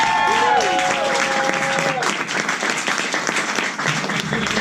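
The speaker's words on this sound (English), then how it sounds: "We'd like to give an extra round of applause to Michaela," An audience at a Fringe festival comedy show gives a round of applause, with lively clapping that swells and then holds steady. Speech briefly overlaps the start.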